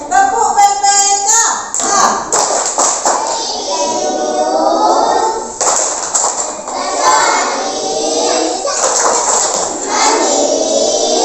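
Children perform the rhythmic clapping chant Tepuk PPK: a burst of sharp, quick hand claps opens the clip, then young voices chant in a steady beat with occasional claps, loud and close throughout.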